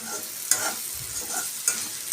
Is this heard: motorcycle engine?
no